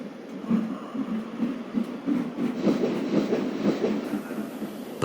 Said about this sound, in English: But Donald, with Douglas's tender, number 10, was out and away with the goods before they came near.